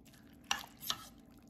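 A spoon scrapes twice through a pot of collard greens and black-eyed peas, two quick soft stirring strokes close by and quiet, with no talk.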